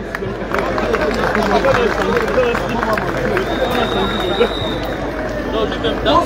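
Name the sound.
audience applauding Edith Lugla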